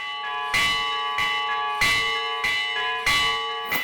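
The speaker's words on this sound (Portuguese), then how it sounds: "Quando as badaladas ecoam pela cidade, todos já sabem quem está tocando." Church bells at the Franciscan sanctuary in Canindé, Brazil, rung by a bell-ringer, peal in a steady pattern, with strong strikes about every 1.3 seconds over a sustained, shimmering hum of overlapping tones.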